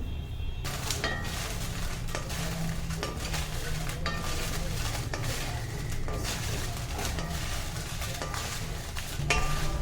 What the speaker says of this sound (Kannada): ಮೆಣಸು ಹುರ್ಕೊಳ್ತಾ ಇದ್ದೀನಿ, ಒಣ ಮೆಣಸು